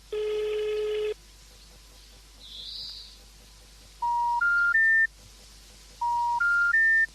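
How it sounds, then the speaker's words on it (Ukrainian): A telephone call goes unanswered: a steady ring tone sounds once, then two rising three-note tone sequences follow with pauses between, clear and close against a faint background hum. "Кілька дзвінків залишилися без відповіді"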